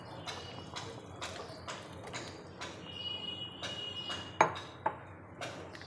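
Fried eggplant being added to a simmering hilsa fish curry in a pan, heard as a series of light clinks, taps and scrapes of a utensil against cookware, with a sharper knock near the end.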